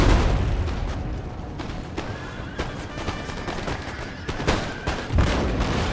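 Canister shot artillery in Empire: Total War fired at mounted tribal gunners: a rapid series of sharp booms and gunfire cracks amid battle noise and horse whinnies, fairly quiet overall.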